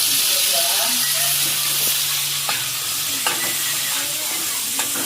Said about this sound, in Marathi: लसूण जरा क्रिस्पी करून घ्यायचं